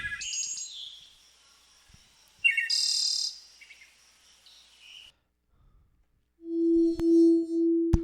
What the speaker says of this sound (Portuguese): Ó, um passarinho.